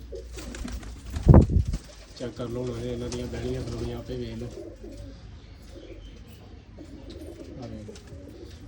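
Pigeons kept for sale, including large males, coo in soft repeated low calls under someone talking, with a sharp loud clatter near the start.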